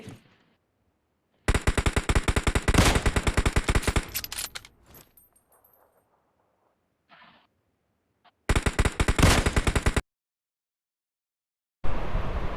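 Rapid automatic gunfire in the mobile video game PUBG Mobile comes in two loud, close bursts of several seconds each, separated by near silence and a few faint clicks, with another burst starting at the end.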